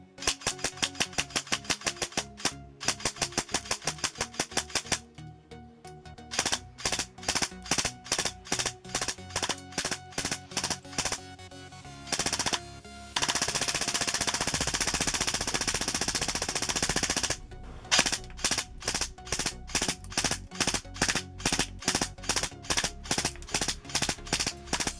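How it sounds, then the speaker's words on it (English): A CZ Scorpion EVO 3A1 airsoft gun fires rapid full-auto bursts at point-blank range into a Call of Duty MW3 game case, with steady rattling strings broken by brief pauses and one long sustained burst, loud and close. "let's destroy this Call of Duty MW3 case"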